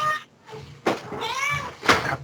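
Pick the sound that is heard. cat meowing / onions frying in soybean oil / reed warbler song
cat meowing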